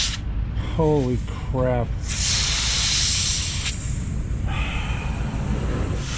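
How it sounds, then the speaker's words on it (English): Compressed air hisses loudly and continuously from a leaking airline on a truck, a broad steady rush with a few changes in strength, while a man exclaims briefly early on. "I've got a leaking airline."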